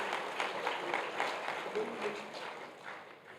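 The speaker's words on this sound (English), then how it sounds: "Please, a round of applause for Professor Olumuyiwa" An audience at a university inaugural lecture on Yoruba dialectology claps for the professor, soft, fairly distant applause that tapers off toward the end.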